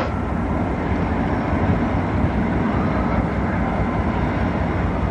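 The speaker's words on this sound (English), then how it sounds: "That's a train." A train rumbles past in a dense, steady roar that stays loud and close throughout, with no speech over it.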